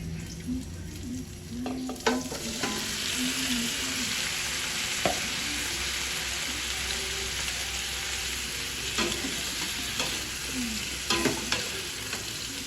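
Lechon pork sizzles and fries in a pan with garlic, onion and ginger, a steady close hiss with occasional stirring scrapes and clanks over roughly thirteen seconds, no talking.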